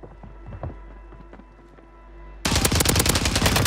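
Rapid gunfire in Modern Warfare III bursts in loudly partway through, a dense rattle of shots following quieter game ambience with faint footsteps and clatter, no voices.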